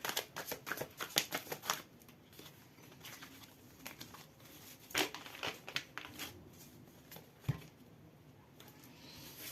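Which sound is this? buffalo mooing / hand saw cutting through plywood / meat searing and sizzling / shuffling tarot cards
shuffling tarot cards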